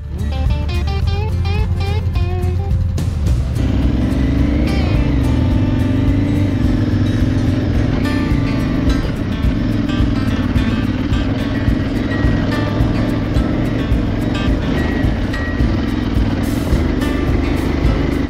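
Aprilia Tuareg motorcycles ride hilly dirt trails during the Vercingétorix rally, their engines a loud, continuous drone with shifting pitch that runs throughout without pause.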